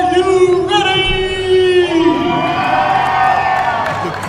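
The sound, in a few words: crowd cheering at the Buffalo Fitness Expo arm wrestling match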